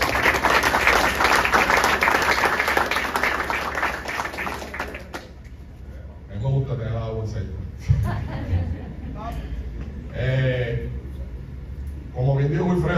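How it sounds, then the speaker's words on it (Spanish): A crowd at the Vaqueros de Bayamón 2022 team presentation applauds Owen Pérez with dense, loud clapping for about five seconds, then a voice speaks alone. "Un fuerte aplauso para Owen Pérez."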